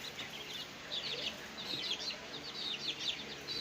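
Quail chicks and young chickens chirp and peep continuously in high, overlapping tweets, with occasional soft clucks beneath, fairly close and steady.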